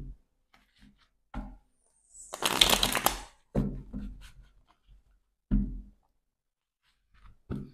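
Oracle cards being shuffled in a quiet room, one dense papery riffle burst followed by several short, soft taps and slides of the deck, close and clear with no talking.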